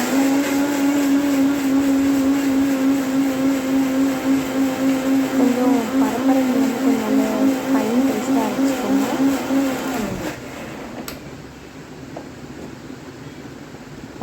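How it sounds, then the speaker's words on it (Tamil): Mixer grinder grinding masala paste for anchovy fish aviyal, a loud steady motor whine with a churning, wobbling pitch that runs for about ten seconds, then cuts off and leaves quieter room noise. "இப்போ நம்ம நல்லா அரைச்சி எடுத்துக்கலாம்"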